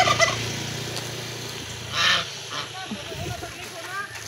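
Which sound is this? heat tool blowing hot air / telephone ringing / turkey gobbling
turkey gobbling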